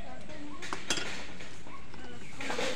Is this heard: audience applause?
no